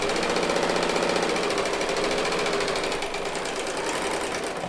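A serger sewing machine runs a straight stitch while piecing a quilt top, giving a loud, continuous, fast mechanical rattle that runs unbroken from start to finish and then stops, with no talking over it.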